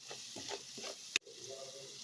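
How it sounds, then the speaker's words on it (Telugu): A ground garlic masala paste with onions and a pinch of turmeric sizzles in a pan for egg curry as a spoon stirs it, with one sharp scrape of the spoon against the pan. "ఒకసారి అంతా కలుపుకుందాం."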